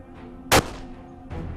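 A single sharp gunshot cracks loudly, followed by a softer second bang about a second later, with faint background noise.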